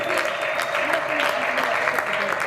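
A church congregation claps for the Lord in a steady, dense burst of applause filling the room, with a sustained musical tone and some voices underneath.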